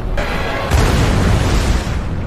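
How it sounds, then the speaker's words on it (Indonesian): A loud, sustained explosion from a film scene, heard as a dense, roaring blast that swells after a brief start and rumbles continuously for a couple of seconds before cutting off abruptly. "salah satu penyintas bernama Pilot pun nekat mengorbankan dirinya dengan akan meledakkan dirinya"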